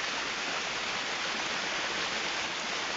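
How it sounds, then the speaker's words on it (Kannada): The swollen Aghanashini river in the Malenadu region during heavy monsoon rain, its rising water rushing in a dense, unbroken roar that stays steady and even throughout, with no voices. "ಇಲ್ಲಿ ಯಾವ ರೀತಿ ನೀರು ಬರ್ತಾ ಇದೆ ಅಂತ"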